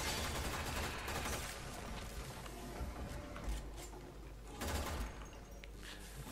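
Braton Prime rifle firing in the video game Warframe, heard as rapid dense bursts of gunfire in a busy, continuous barrage with louder volleys near the start and toward the end.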